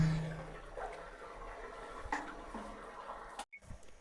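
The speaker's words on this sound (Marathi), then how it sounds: "आता हे पाणी काढून देऊ" Water runs and gurgles as it drains out of a concrete storage tank, a continuous wash of flow with a few small splashes near the end, heard up close with no talking.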